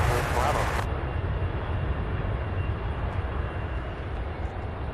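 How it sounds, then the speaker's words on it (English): An MD-11 jet at Louisville International Airport produces a sustained low rumbling roar at moderate distance, with a brief brighter burst of noise at the very start before settling into an even drone. "Look at that MD-11."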